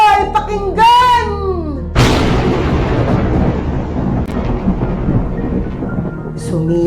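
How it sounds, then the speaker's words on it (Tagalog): A deep, loud thunderclap booms and rolls into a heavy downpour of rain that continues steadily, after a voice speaks in a storm-themed story. "gumuhit sa langit ang matatalim na kidlat. Kasunod nun ang pagbuhos ng malakas na ulan."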